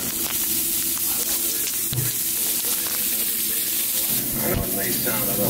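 Oil sizzling in a pan while onions and peppers fry for a Philly cheesesteak, a steady loud hiss with faint pops throughout, close up.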